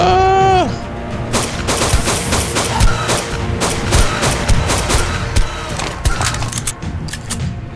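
Rapid gunfire from ARK Survival in an ice cave, a dense run of sharp shots and bursts going on throughout, loud and continuous, with a brief tonal sound at the start.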